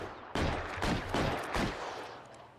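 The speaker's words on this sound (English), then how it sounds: "just standing here as a shootout's going on" Bursts of gunfire from a shootout in the video game L.A. Noire, four loud overlapping volleys in quick succession with a dense crackling wash between them and no talk.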